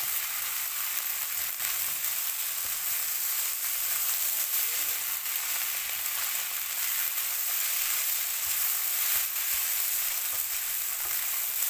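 Egg fried rice with tomato stir-fried dry in a pan, a steady close sizzle with scraping stirs running throughout, no talk.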